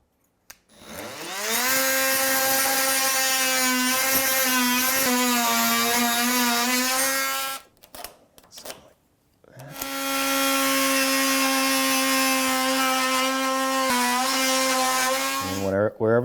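Power saw cutting a notch into a 2x4 wood stud during a drywall corner repair, two sustained loud whining cutting passes of several seconds each separated by a short pause.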